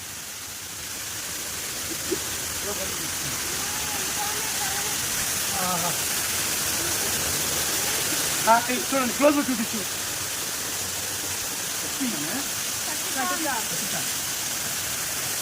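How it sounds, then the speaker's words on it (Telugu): Katika waterfall at Araku roars with steady, loud rushing water throughout, while people and children talk over it nearby. "ఇదిగోండి సౌండ్ వినబడుతుందా? ఇదే కట్టి వాటర్ ఫాల్స్."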